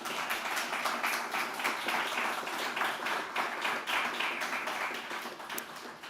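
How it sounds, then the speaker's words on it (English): Audience applause at an event, a dense and even burst of clapping from many hands that holds steady throughout and eases off slightly at the end. "Maybe a first applause for this"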